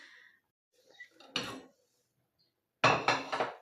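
A metal soup pot scrapes and clanks against a stove in two short bursts as it is moved aside, separated by near silence, in a quiet room.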